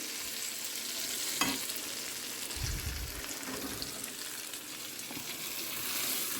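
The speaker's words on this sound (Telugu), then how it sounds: "ఇప్పుడు చట్నీలు వేద్దాం దీన్ని చట్నీలు వేసి కలుపుదాం" Tomato chutney stirred into a garlic tempering in a pan on a switched-off stove, giving a steady hiss of sizzling oil throughout and a few soft stirring scrapes, close and continuous.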